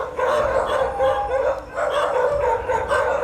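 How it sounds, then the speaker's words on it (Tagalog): Dogs on a Philippine island bark and howl loudly in repeated, overlapping bursts close by, with no speech over them. "Pero pag lumayo na sila, doon palang kakahol yung aso"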